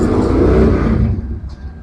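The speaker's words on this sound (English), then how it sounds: "loud motorbikes outside." Loud motorbikes revving outdoors, a thick low engine roar that swells and then eases off toward the end, heard from inside at moderate distance.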